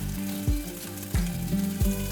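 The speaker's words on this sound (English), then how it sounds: "we'll add our ribs in, letting them sizzle and brown to perfection." Steady crackling sizzle of boneless beef short ribs frying in hot oil, with a few low thumps and scrapes as pieces shift in the pan.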